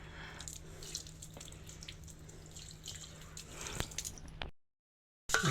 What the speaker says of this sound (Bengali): একটু জল ঢালি